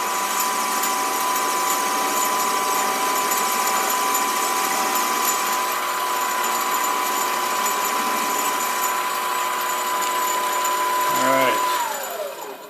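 A SIEG 7x14 mini lathe cuts a bevel, its motor giving a steady, close whine with a constant tone throughout, then spinning down near the end.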